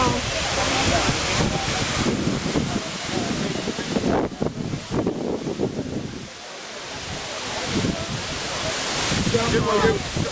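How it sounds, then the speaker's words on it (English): Broad rushing water roars steadily at Wli Waterfalls in Ghana's Volta Region, a dense wash of spray and wind buffeting the microphone while people chatter and exclaim over it. "water running everywhere at Willie Waterfalls"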